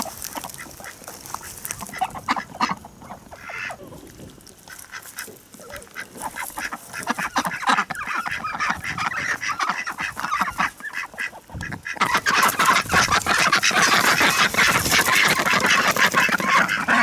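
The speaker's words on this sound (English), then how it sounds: "So now you know what a male duck sounds like." A male domestic duck gives repeated raspy, breathy quacks close by, with honking, goose-like calls mixed in among other farmyard birds. The calling gets louder and denser toward the end.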